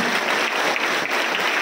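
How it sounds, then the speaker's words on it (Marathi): An audience at a student lecture hall breaks into dense, steady applause for a visiting speaker, many hands clapping together at full strength with no pauses. "त्यासाठी त्यांना एकदा जोरदार टाळ्या वाजवा"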